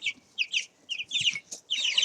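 Chickens cluck in quick, close bursts while jostling and fighting over food, several short bright calls in irregular succession with brief gaps.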